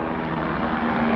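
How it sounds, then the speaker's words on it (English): A steady low engine drone with a faint rhythmic thrum of a helicopter flying at a distance holds constant throughout. "There's a helicopter flying somewhere."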